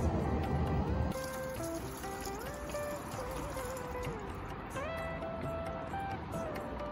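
Homemade windshield washer fluid pours into a car's washer reservoir under the hood, a faint steady trickle of liquid with a quiet engine-bay background.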